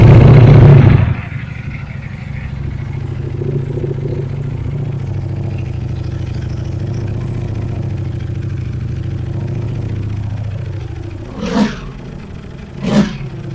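A Ducati Panigale V4S superbike with its factory exhaust idles steadily up close, a low rumbling drone running for several seconds before two sharp throttle blips near the end, with no talking.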